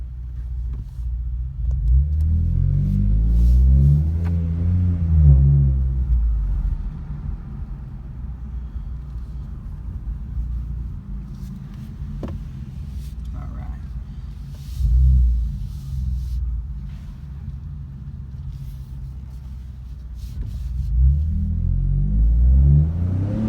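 A Ford Fusion fitted with a Magnaflow True X-pipe sport exhaust drives by, its deep exhaust rumble rising in revving surges near the start, mid-way and at the end, with a lower steady drone between.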